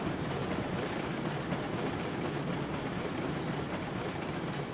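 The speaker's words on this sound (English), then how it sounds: "Just chilling out, driving a train." A train in the game Railroads Online runs along the rails with a steady, dense rumble and faint clickety-clack throughout, loud and close with no talk.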